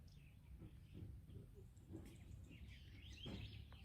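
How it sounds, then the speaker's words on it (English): Birds chirp and call on a farm growing tomatoes, green peppers and corn, with scattered high tweets rising over steady low outdoor noise and a faint background rumble. "Can you even hear the birds chirping away?"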